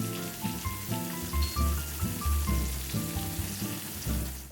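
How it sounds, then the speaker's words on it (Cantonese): Chicken thigh sizzles skin-side down in a hot, unoiled grill pan, a steady frying hiss running through the clip beneath fairly loud tonal background music. "個 pan 熱咗就可以將雞皮嗰邊放落去煎"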